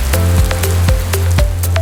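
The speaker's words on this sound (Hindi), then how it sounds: "शहर में मूसलाधार बारिश बरसने से फितरत की रंगीनियां मजीद निखर गई।" Heavy rain pours down over a city in Pakistan, a loud, steady wash of drops with sharp close impacts landing on a nearby surface every fraction of a second.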